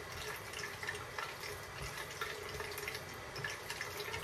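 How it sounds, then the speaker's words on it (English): Tap water running steadily into a bathroom sink while rinsing off after a shave, a soft continuous faint splashing flow with no talk. "time to grab a little towel here. Rinse off."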